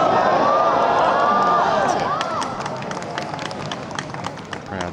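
Golf gallery at a tournament in Shenzhen reacting after a chip shot, a loud swell of crowd noise and scattered clapping that gradually eases into a steadier murmur.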